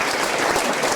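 Brief, dense applause from a podcast studio audience fills the whole moment, a steady close wash of clapping with no pause.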